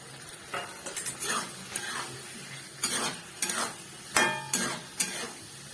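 A spoon scrapes and stirs peas, fried potatoes and cabbage in a sizzling pan, with about a dozen irregular, close scraping strokes over a soft frying hiss.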